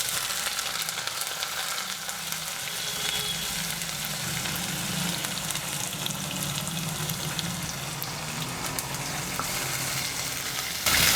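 Fenugreek, crushed shallots, ginger, garlic and dried chillies sizzle steadily in hot oil for a Kerala-style fish curry, a close, continuous frying hiss with faint stirring throughout.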